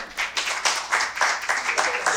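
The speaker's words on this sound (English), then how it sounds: "give her a round of applause." Audience applause welcoming a college professor to an interview at a community event, a steady patter of many hands clapping at moderate volume that swells slightly and holds for about two seconds.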